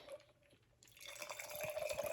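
A freshly shaken cocktail is poured out, starting quiet and then swelling into a soft, close trickling splash of liquid that builds toward the end.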